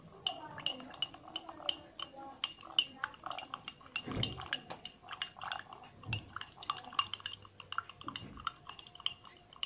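Homemade multipurpose dishwash liquid made with acid slurry and water is stirred in a container, giving soft sloshing and light glassy clinks in an irregular rhythm while someone talks nearby.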